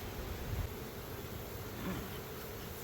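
Honeybees from well-established hives buzz in a steady, dense drone that stays close and fairly even throughout, with no talk over it.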